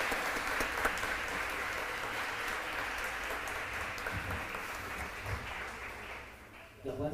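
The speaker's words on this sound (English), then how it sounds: "Round of applause." An audience at a hybrid forum on information literacy gives a steady round of applause, a dense even patter of clapping that holds for several seconds before tapering off.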